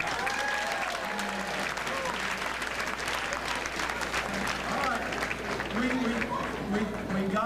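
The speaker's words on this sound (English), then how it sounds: "Give them an applause and let them go" Audience applause at a political rally, a dense wash of clapping that runs steadily throughout, with crowd noise and a voice speaking over it.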